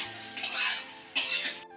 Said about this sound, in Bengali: আমাদের ভাজা প্রায় হয়ে আসছে